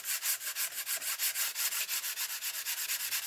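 Steady back-and-forth sanding of a wooden model airplane wing for a Honker 250 build, with rhythmic rasping strokes about four per second, close and fairly loud, with no talking.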